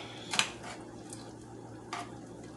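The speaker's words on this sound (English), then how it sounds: "Let me stir the kidney beans because I don't want them to stick" Kidney beans being stirred in a pot, with a few faint clinks and scrapes of a spoon against the metal over a quiet low hum, no voices.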